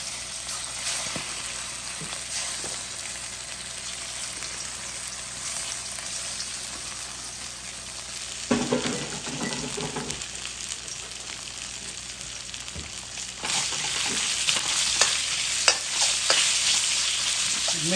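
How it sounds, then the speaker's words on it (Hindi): Marinated chicken for Kung Pao chicken fries in hot oil in a pan, a steady loud sizzle and crackle throughout, with stirring scrapes and a brighter, hissier surge in the last few seconds. "मेक श्योर तेल आंच पे फ्राई करना है आपको इसको."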